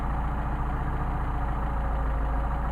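Mercedes 190SL engine fitted with Solex carburetors idles low and steady nearby, a continuous even rumble with no speech.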